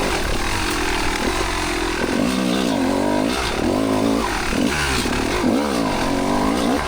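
A 2-stroke Kawasaki KX250 dirt bike rides laps of a GP loop, its engine loud and close with a buzzing, rising and falling rev as the rider throttles through tight sections.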